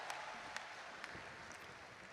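Dense, steady applause from a hall audience welcoming a performer at a Hindi comedy and satire event, a continuous clapping wash across the whole moment with a few sharper claps standing out.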